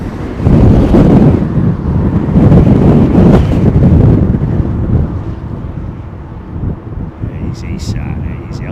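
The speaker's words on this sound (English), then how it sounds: "It's a windy day, for crying out loud." Strong storm wind batters an outdoor microphone at London Heathrow Airport during Storm Kathleen, producing a loud, continuous low roar with gusty surges that eases slightly partway through.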